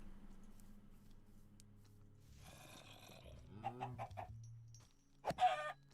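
A Minecraft chicken clucks a few times late on, short near bursts after a quiet low hum, ending with a sharp hit-like sound.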